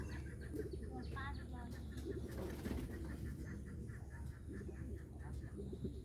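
A pair of Bombay pigeons keeps up repeated low cooing calls, overlapping in a steady rhythm, with faint chirps from other birds and a dull background hum.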